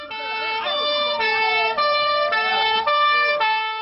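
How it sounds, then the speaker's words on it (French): Wailing sirens of a police convoy moving through a city, with rising and falling tones, several overlapping, loud and close, with no speech over them. "toute sirène hurlante"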